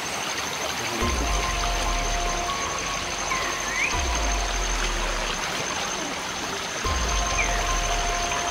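Floodwater rushes steadily in a broad, continuous wash with rain mixed in, loud and close, while low thumps and faint tonal beeps recur every few seconds.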